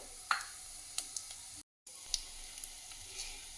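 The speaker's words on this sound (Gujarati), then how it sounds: "તેલ ગરમ થઈ ગયું છે હવે આપણે એક ચમચી આમાં જીરું નાખશું" Cumin seeds sizzle in hot oil in a kadai, a faint steady crackle with a few sharp pops and spits standing out, broken by a brief gap of silence.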